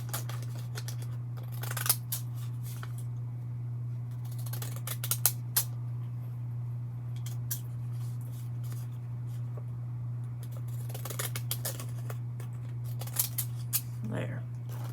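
Scissors trim craft material in a few short crisp snipping bursts at intervals, close up over a steady low hum in a quiet room.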